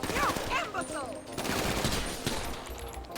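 Rapid gunfire crackles through a GTA V zombie mod, bursts of shots mixed with game noise while someone talks over it.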